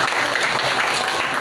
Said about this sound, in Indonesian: Sebelum itu tepuk tangan untuk teman kita dulu.